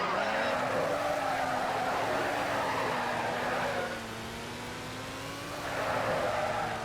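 A car drifting with skidding tires in Car Crusher 2: a steady engine drone with a wavering pitch and a continuous tire squeal, briefly dipping before the skid swells again.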